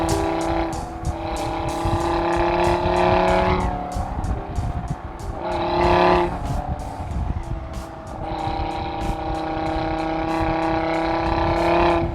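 An Audi RS3 Sedan's five-cylinder engine revs and roars loudly with repeated surges, the exhaust note rising and falling, with brief tire squeals between bursts.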